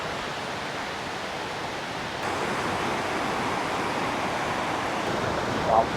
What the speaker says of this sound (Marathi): वॉटरफॉलच्या जवळ पोहोचलो आहे